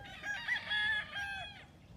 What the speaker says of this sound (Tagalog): wag ibabagsak ang manok